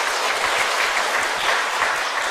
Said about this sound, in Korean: 분들 감사하는 우리 박수 한번 해드립니다.